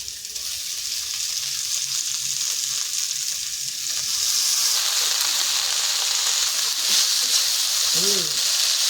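Steady sizzling of jukti flowers frying in hot oil, a continuous bright hiss that swells slightly louder midway, with a brief faint voice-like sound near the end.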